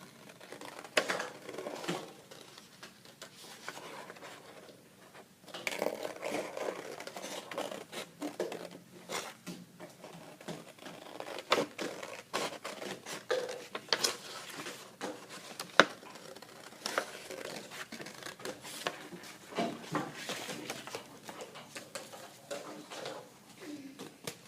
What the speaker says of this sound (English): I'm going to cut out this texture